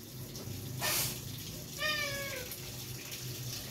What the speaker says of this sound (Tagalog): Nagmamakaawa na yung aking pusa.